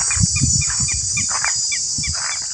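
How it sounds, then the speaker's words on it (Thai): Outdoor natural ambience at a Buddhist temple in Lampang, Thailand: a steady, loud high insect drone like cicadas or crickets runs throughout, with repeated short bird chirps and soft low knocks scattered beneath it. "ได้ยินเสียงจิ้งหรีดจักรจั่นเรไรเสียงนกเสียงไก่เสียงธรรมชาติ"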